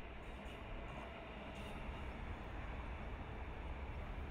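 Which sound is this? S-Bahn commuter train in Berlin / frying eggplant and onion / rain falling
S-Bahn commuter train in Berlin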